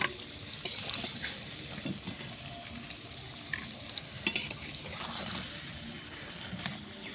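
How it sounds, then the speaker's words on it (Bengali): Potatoes fry in oil with a soft, continuous sizzle while a utensil stirs and lifts them out, giving scraping clinks and a sharper metallic knock midway, fairly quiet with no talk. "আলুওয়ালা সুন্দরভাবে ভাজা হয়ে গেছে। আমি এখন"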